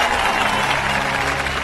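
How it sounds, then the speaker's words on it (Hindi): Audience applause at a talk on farming and agriculture, a steady dense wash of clapping with faint crowd noise throughout. "ताली बजाओ,"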